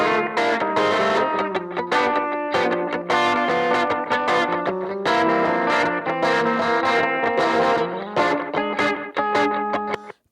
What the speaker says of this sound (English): Let's hear the guitars together.